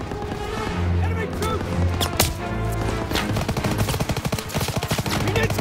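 Dense Call of Duty WWII suppressive covering fire: rapid machine-gun bursts and single shots rattle continuously and loudly, with sharp cracks and booms in the battle. A shouted voice cuts in at moments.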